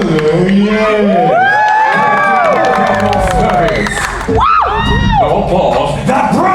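A crowd cheers, whoops and claps at a Disney villains stage show at Hollywood Studios, with children shouting among loud overlapping voices, and a performer talks over the noise.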